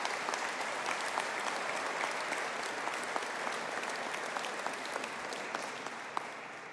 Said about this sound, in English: A big round of applause for our culinary entrepreneurship, hospitality and tourism management students.